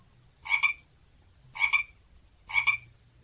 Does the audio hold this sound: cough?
no